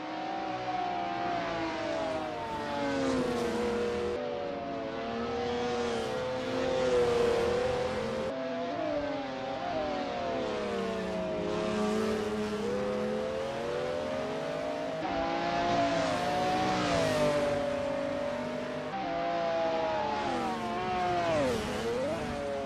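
McLaren F1 GTR race cars on Sonoma Raceway's Long Circuit in a racing game, their engines revving and shifting in continuous rising and falling howls, loud and close throughout with no talk.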